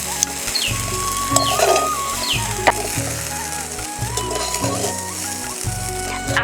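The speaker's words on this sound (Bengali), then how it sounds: "একটুখানি ফ্রাই করে নিলেই হয়ে যাবে" Fried rice stir-fried in a pan, wedding-feast style: steady close sizzling with rhythmic scraping and clattering stirring strokes repeating through the clip, no talk.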